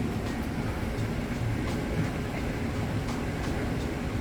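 Clothes dryer just switched on and running, giving a steady low rumble with faint rhythmic knocks and clicks of the tumbling drum, moderately quiet and continuous.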